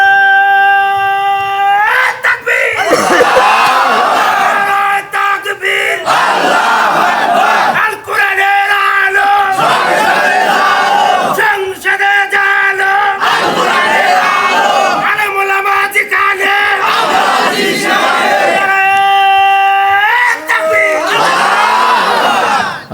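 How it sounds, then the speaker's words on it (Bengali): Crowd at a Bangla Islamic waz sermon in Pabna shouts repeated takbir, loud Allahu Akbar roars in several waves, alternating with a preacher's sustained, melodic calls leading them. "দেন দেন একটা তাকবীর দেন"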